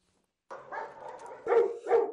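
Many dogs bark and yip together at a large animal shelter near Kyiv, a dense chorus with louder overlapping barks swelling near the end.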